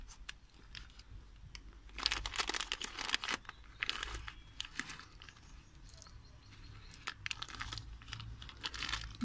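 An M&M's candy packet being cut open, producing faint crinkling and rustling plastic with short scissor snips and crunches scattered irregularly, close but quiet.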